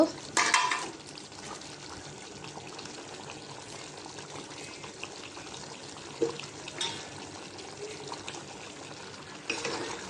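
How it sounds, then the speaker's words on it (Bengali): Beef and potatoes are stirred in a cooking pot, giving scraping, clattering bursts at the start, near six to seven seconds and again near the end, over a steady low kitchen background with no talking. "নাড়াচাড়া দিয়ে দিব নাড়াচাড়া দিয়ে দিলাম"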